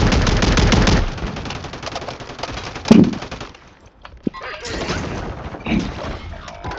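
Gunfire in the video game Warzone 3 during a Plunder match, with a sharp loud burst near the middle amid dense clattering game noise, then quieter scattered shots and thuds.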